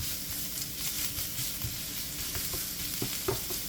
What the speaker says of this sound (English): I'm going to saute the veggies.